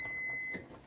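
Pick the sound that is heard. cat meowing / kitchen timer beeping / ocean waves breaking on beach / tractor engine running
kitchen timer beeping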